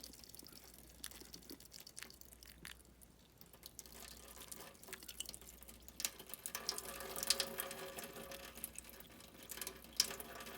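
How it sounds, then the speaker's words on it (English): Water poured slowly over laundry soap in a science properties experiment, a steady trickling and splashing that fills the scene at moderate level, with faint drips and a low hum underneath. "we're going to slowly pour our water over."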